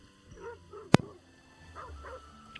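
A dog in a video game gives a sharp single bark amid small yips and whimpering sounds, close and brief, with faint game noise around it.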